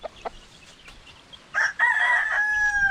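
A male native chicken, a rooster, crows once loudly and close by, a long drawn-out call rising then holding steady before trailing off, preceded by a few faint clucks and soft rustling.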